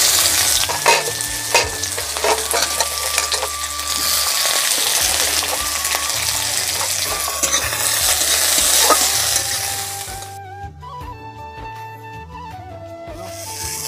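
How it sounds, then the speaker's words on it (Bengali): Onion frying in oil in a pan, a dense close sizzle with stirring scrapes that quiets near the end into softer crackles and a faint tone. "এবারে পেঁয়াজটা ভেজে নিচ্ছি।"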